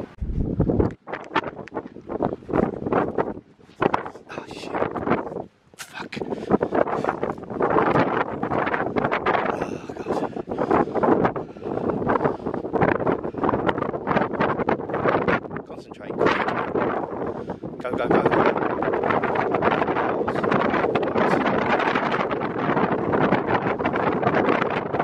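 Strong wind gusting along the wall of Cliffe Fort, buffeting the microphone in heavy, uneven rumbling blasts that rise and drop with short lulls, loud and close throughout.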